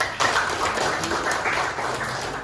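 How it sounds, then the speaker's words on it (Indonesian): Students in a classroom clap together for a few seconds, a moderately loud, slightly uneven patter of hands close by with no speech over it. "Kasih tepuk tangan dulu dong."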